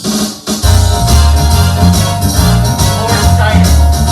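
Seventh-chord section of a style arrangement on a Williams Symphony Grand digital piano, a brief pause then dense loud backing with pulsing bass, drums and keyboard chords, no talking.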